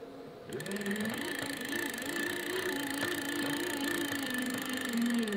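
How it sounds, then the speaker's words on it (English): Electric offshore fishing reel winding line onto its spool, a steady motorised whir with a faint high whine, close and continuous after a brief quiet start. "So I'm gonna get a couple winds on the reel here."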